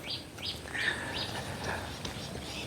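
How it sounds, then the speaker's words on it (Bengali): Birds chirping on a breezy village morning in rural Bangladesh near banana trees, with several short bright calls repeating over soft outdoor background noise. "পাখির কিচিরমিচির শব্দ"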